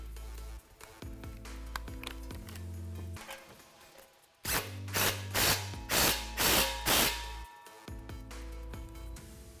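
Ratchet wrench tightening a clamp on a stainless steel cat-back exhaust tip of a 2015-2017 Mustang, a long run of close, loud clicking ratchet strokes with a burst of six sharp pulls near the end.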